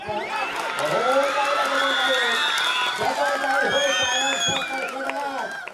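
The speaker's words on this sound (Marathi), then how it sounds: "हा जल्लोष तुम्ही बघू शकता" Cheering crowd at a kabaddi semi-final between Jai Hanuman Anjarle and Shri Ram Karde, a steady loud roar with whoops, while a commentator talks over it throughout.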